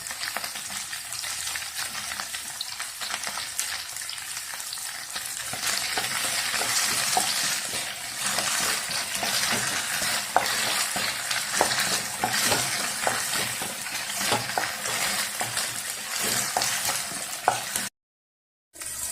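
Okra sautéing in hot oil in a pan, a steady close sizzle and fry hiss with occasional stirring scrapes throughout, briefly cutting out near the end.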